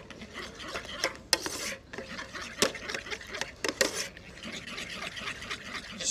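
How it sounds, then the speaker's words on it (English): Fish sauce and soy are stirred in a pan, with soft scraping and clinking of a utensil against the pan in irregular strokes, fairly quiet and close. "Just a little bit of soy, and stir that around."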